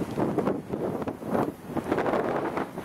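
Strong gale wind buffets the microphone during a cold November bike ride, a continuous rough roar with surging gusts, loud and close, with no voices.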